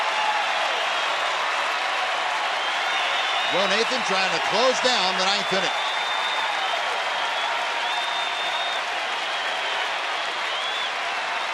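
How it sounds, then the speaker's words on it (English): A baseball stadium crowd of about 40,000 at a Rangers home game stands and gives a sustained ovation for closer Joe Nathan, a steady roaring applause filling the whole stretch while a commentator speaks briefly over it. "They are getting to their feet and an ovation rising for Joe Nathan and the Rangers."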